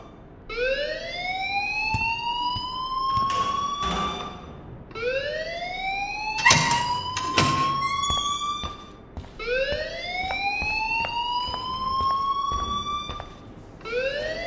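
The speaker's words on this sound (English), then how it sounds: "please turn off that alarm since that's your job" An alarm in the video game Life is Strange wails steadily in repeated rising siren sweeps, loud and continuous, with a few sharp bangs mixed in.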